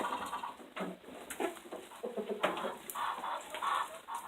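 Hens clucking and murmuring close by as they eat, a steady scatter of short calls with bursts of louder clucks, no one talking.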